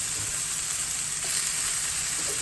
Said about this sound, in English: So then I just toss it all together in the skillet